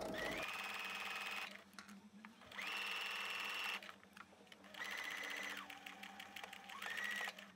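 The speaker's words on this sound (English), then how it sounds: "You wanna start and make sure that you backstitch at the beginning and at the end." A sewing machine stitches a seam with backstitching in three sustained whirring runs separated by short pauses, close and steady, with a brief change in pitch near the end.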